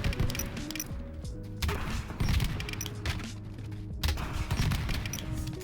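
Grenade launcher variant firing in the video game Halo 5, with repeated loud booming blasts and crashing impacts layered over a dense, busy battle soundscape.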